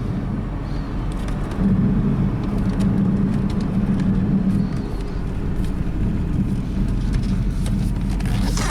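An Audi 80 driving on a village road with a suspension humming noise: a continuous loud droning rumble and road noise throughout, steady with no talk.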